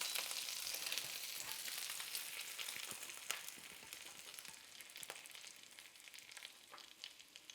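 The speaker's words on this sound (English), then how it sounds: "I'm frying meatballs." Steady, close-up sizzling of meatballs frying in a pan, crackling and spitting continuously, with occasional light scrapes from stirring.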